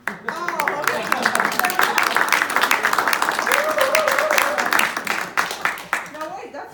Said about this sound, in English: I feel like clapping.